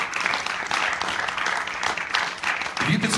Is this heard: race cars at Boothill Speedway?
no